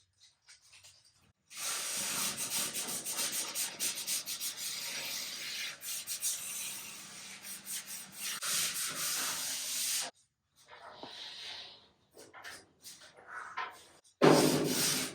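The cabinet of a 1951 Vendo 39 Coke machine is sanded by hand with 150 grit sandpaper: close, steady rasping strokes in a long run, then a pause and a few shorter passes.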